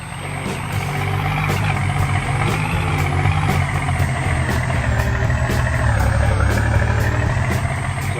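A monster truck engine roars loud and continuous in a Rigs of Rods race at the Springfield track, revving and straining with rhythmic clatter and a high whine throughout, no voices.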